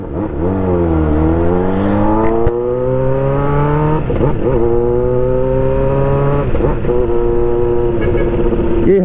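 A Honda CBR600RR motorcycle revs loudly up close, its engine pitch climbing through several gears with sharp drops at each shift, a continuous strong whine.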